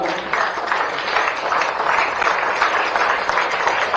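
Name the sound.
loud applause at a ceremony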